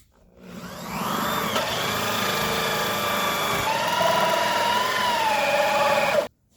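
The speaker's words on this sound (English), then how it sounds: "let's go ahead and drill this out" A power drill whines steadily as it bores straight through a wooden board, a loud continuous tone with shifting pitch lasting several seconds before stopping abruptly.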